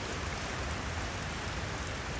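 Heavy rain falls steadily around a home, a dense, even hiss of drops with no breaks or voices.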